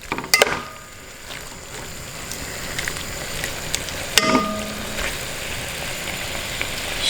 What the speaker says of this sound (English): While most of the vegetables are already in the pan, I'm going to put in the octopus.